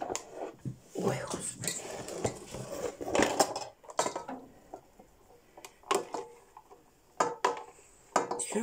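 Spoons scrubbed with a toothbrush in a kitchen sink, giving irregular clinks and scratchy brushing bursts of metal cutlery against dishes, close and fairly loud, with no talk.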